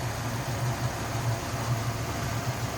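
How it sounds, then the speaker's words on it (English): A 1979 Ford Thunderbird hardtop engine idling in its stock engine bay, giving a steady, smooth low hum at an even level with no revving and no talk. "See how smooth that runs?"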